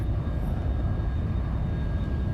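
In the X-Plane 11 flight simulator, an aircraft engine runs at full power as a steady, even drone that holds without change for the whole moment.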